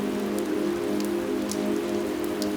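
Steady rain falls onto a surface, a continuous even patter with occasional louder drops standing out, with no voices.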